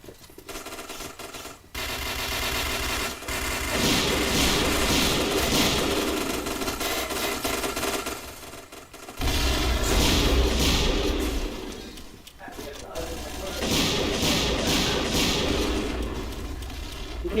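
Gunfire and explosions in the shooter game Point Blank, with rapid bursts of automatic fire coming in loud waves separated by short lulls, and thuds and blasts mixed in.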